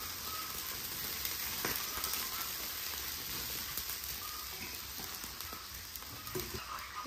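Sauerkraut tipped into a hot cooking pot in a rural home kitchen gives a steady, even sizzle and crackle like light rain, held at a constant level throughout with a few soft knocks.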